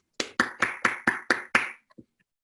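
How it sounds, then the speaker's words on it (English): Applause from session chairs and attendees at a learning analytics conference closing session: a short burst of about seven distinct claps in an even rhythm, fairly close, followed by a couple of faint stray taps. "Applause."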